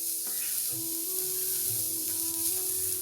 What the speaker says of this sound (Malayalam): അതിലോട്ട് തേങ്ങ ആഡ് ചെയ്ത് കൊടുക്കാം.